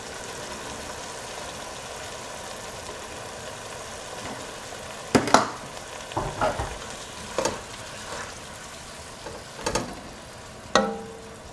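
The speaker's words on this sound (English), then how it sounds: "Now we'll just add the vegetable stock to that mix." Steady sizzling in a hot pan, with several sharp bursts of hissing and splashing as vegetable stock hits it; no voices.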